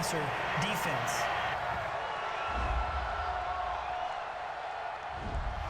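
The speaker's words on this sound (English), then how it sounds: "this crowd does not like that call. Understandable reaction from them." A football stadium crowd at a Cincinnati Bengals versus Cleveland Browns game roars in protest at a penalty call, a broad distant rumble under a commentator's voice.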